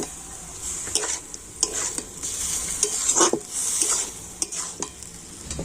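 Spiced boiled potato filling for puri, mixed with a little water, is stirred and fried in a pan, with repeated scraping strokes of a spatula over a soft sizzle, close and fairly quiet.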